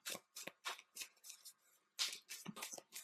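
Tarot cards being shuffled in quick repeated riffling bursts, about nine crisp papery flurries in three seconds, close and alone with no talk.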